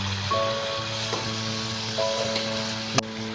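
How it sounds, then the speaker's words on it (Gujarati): French fries dropped into hot oil for their second frying, giving a steady, even sizzle with a faint tonal hum behind it and one sharp click near the end. "હવે આપણે ફ્રેન્ચ ફ્રાઈઝ બીજી વખત ફરી તેલમાં તળી લઈશું"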